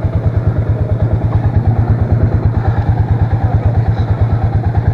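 The engine of a vehicle stuck off-road chugs close by in a steady, rapid rhythmic pulse while the throttle is worked, loud and low-pitched throughout.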